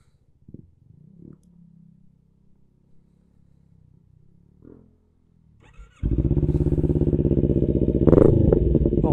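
A single-cylinder Kawasaki NK400 motorcycle engine with a loss of power starts up after quiet, faint clatter and settles into a loud, steady, throbbing idle with a brief rev near the end.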